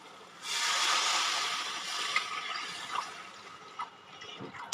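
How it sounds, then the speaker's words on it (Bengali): Water poured from a vessel into a pan of hilsa fish in mustard curry, a steady close splashing hiss that tapers off into small drips and trickles. "এইবার আমি জল দেব এই পর্যায়ে।"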